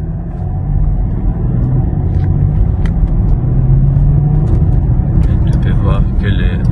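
A BMW X5 engine in sport mode gives a loud, steady low rumble from inside the cabin during acceleration, while someone talks over it.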